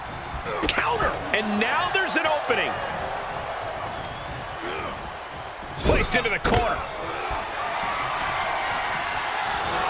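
A pro wrestling clothesline lands in an intercontinental title match between two wrestlers. Sharp slamming impacts ring out over a constant arena crowd roar, with a commentator talking throughout.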